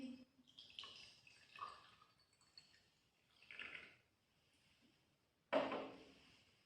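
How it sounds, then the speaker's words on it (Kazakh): Distilled water pours into a glass in a school chemistry lesson, quiet splashing in a few short bursts with a stronger gush near the end. "Біріншіден стақанға су құямыз дистилденген."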